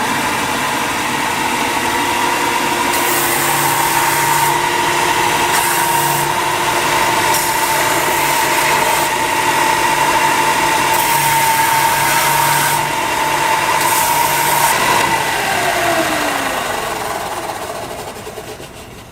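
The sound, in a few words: belt sander rounding edges of wood and leather grips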